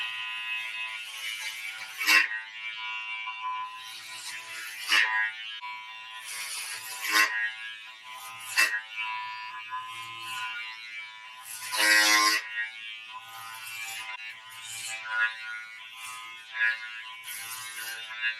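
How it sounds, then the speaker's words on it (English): Electric hair clippers fitted with a number 3 guard buzz steadily close up as they shave hair. The whine rises and roughens in repeated bursts as the blades pass through, with no talking. "I'm going to put that on and start to shave it off"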